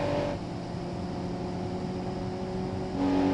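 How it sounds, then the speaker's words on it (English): A steady, droning car engine in the BeamNG.drive video game hums at a constant pitch, with a tonal shift near the end as it revs slightly; no speech. "you can hear the car catching up"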